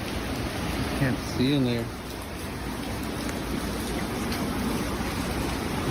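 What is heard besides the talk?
heavy rain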